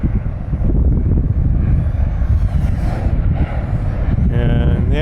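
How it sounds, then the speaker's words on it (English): Steady wind buffeting a microphone outdoors while flying a small FPV drone, a loud low rumbling roar that fills the whole stretch with little variation. "it's windy right now, pretty windy"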